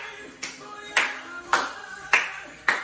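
Participants in a senior Latin dance class clap in steady rhythm, five sharp claps roughly half a second apart over quiet background music.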